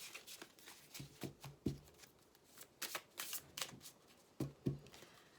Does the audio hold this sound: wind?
no